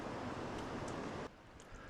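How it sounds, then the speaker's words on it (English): Rushing river water churns near a series of waterfalls in clear Alaskan wilderness near Petersburg, a dense broadband roar that drops abruptly to a softer, hissing flow partway through. "we're rewarded with the sound of rushing water"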